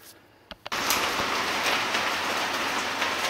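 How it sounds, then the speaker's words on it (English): Steady heavy rain pours down after a couple of sharp knocks, a dense continuous hiss of drops pattering on surfaces close by. "It started to rain."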